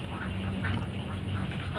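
Ducklings at a hatchery making a dense, continuous chorus of peeping and quacking, heard close and steady without talking.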